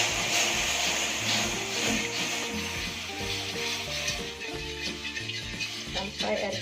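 Sugar water with a pinch of salt being stirred in a pan on the heat for cassava kemplang crackers, a steady close sizzle with scraping stirring strokes throughout, no talking.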